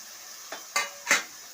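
Tomatoes frying with onions in a pan are stirred, with three quick scraping strokes of a spoon against the pan over a faint steady sizzle.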